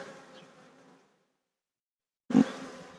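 Honey bees buzz close by at a hive feeder used during queen rearing, a droning hum that fades out, falls silent, then returns loud and sudden for the last second.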